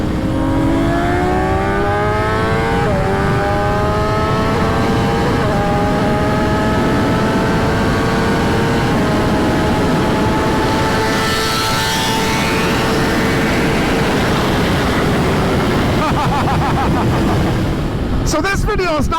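A 2024 BMW M1000XR motorcycle being ridden, its engine note rising through gears with climbing pitch sweeps and shifts, loud and close throughout with steady wind rush, and a voice talking over it.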